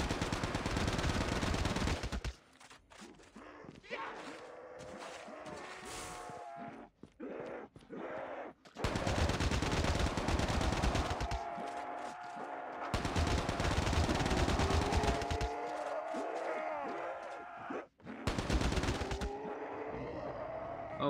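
Rapid automatic gunfire from Call of Duty Mobile's zombies survival mode comes in loud sustained bursts separated by short pauses, with groaning zombie sounds and game effects in between.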